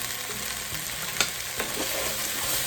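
Quiet, steady sizzle of potato and bean chowder base cooking in a pot as white pepper is stirred in, with a couple of faint spoon scrapes against the pot.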